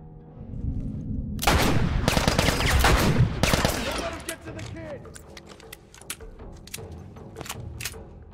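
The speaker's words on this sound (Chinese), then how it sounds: "直接开枪了，不跟你演了。" Rapid bursts of gunfire in The Last of Us video game ring out in loud clusters, then taper into scattered single shots, with a commentator's voice underneath.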